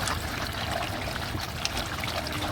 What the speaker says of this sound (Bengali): এই যে তরকারিও বলক এসে গেছে